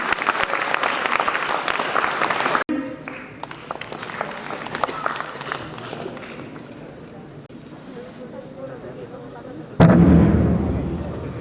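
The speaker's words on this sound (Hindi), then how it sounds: "इतना सुनकर अगर आप बजा दें ताली" Audience clapping at a school event, Swami Vivekananda Jayanti at Mohini Devi Memorial School; a loud burst of applause opens, fades into room noise, then a second loud burst of clapping rises near the end.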